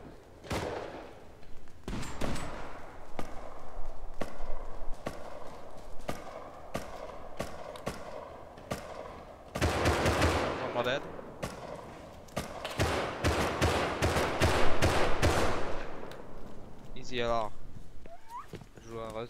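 Gunfire from the video game Rust: a string of sharp single shots at irregular intervals, then dense bursts of rapid automatic fire, with people talking over it.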